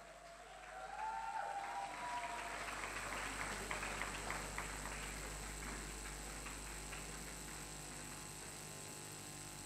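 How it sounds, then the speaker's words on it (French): An audience at an international conference on sexual harassment breaks into applause. The clapping swells after about a second and continues steadily but rather faintly, heard from a distance with a faint hum underneath. "je vous demande d'encourager par des applaudissements."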